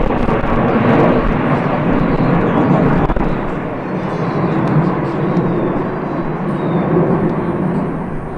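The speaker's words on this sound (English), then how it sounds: "So we have a flyover here before the 6th inning at Sal Magley." An aircraft flies over a baseball stadium before the sixth inning, a loud, broad roaring rumble that swells and holds steady throughout, with faint crowd and voices underneath.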